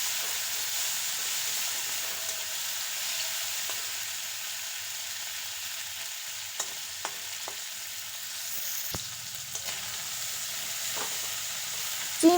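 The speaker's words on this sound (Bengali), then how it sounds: "চিংড়ি মাছগুলো লাল লাল করে ভেজে নেব।" Prawns fry in hot mustard oil in a wok, a steady close sizzle with faint scrapes and light clicks of stirring running throughout, no voices.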